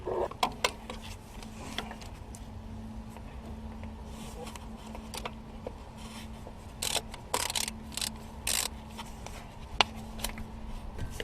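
Faint, irregular clicks and ratcheting bursts come from a long socket wrench turning a nut on an Opel starter motor, heard close up over a quiet background with no speech.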